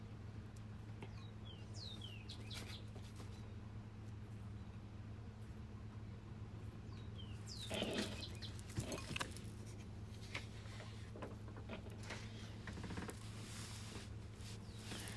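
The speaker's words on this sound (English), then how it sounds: "you can hear a lot of birds, probably a rooster crowing" Birds chirp and call intermittently outdoors over a steady low hum, with a louder burst of calls partway through; no clear crowing stands out.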